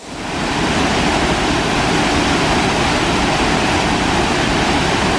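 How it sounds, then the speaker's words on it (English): A heavy-flowing waterfall roars as a dense, steady broadband rush, loud and close, constant from start to finish with no voices. "I thought there was a lot of water coming down that smaller fall back there."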